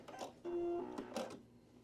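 A domestic sewing machine running a short burst while sewing a button onto a quilted wall hanging, with a steady whirring hum in the middle and a few soft clicks around it, quiet and close.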